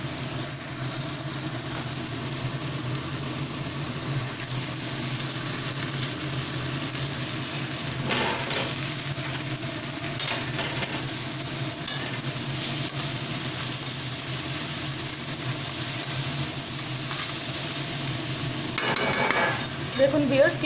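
Crab curry sizzling in a pan over a gas flame, a continuous soft frying hiss with occasional scraping stirs, fairly close and steady.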